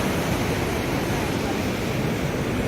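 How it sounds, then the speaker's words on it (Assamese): Steady broadband roar of sea waves breaking on the beach at Puri, a continuous surf wash with no breaks, close and fairly loud, with some wind rumble and no voices. "এই ঢৌ, সাগৰৰ ঢৌ চাওক।"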